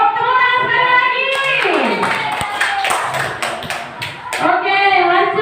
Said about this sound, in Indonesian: Oke ibu-ibu, tepuk tangan sekali lagi.